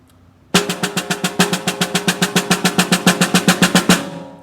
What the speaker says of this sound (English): I actually want you to try and play this song with what we call sextuplet based rolls.